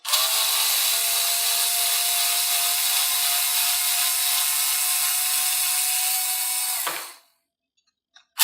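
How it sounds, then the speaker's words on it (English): An electric driver sinks a long stainless screw, 2 5/8 inches, with one steady, loud whir lasting about seven seconds before it stops abruptly and leaves near silence. "I'm just going to switch to this electric driver."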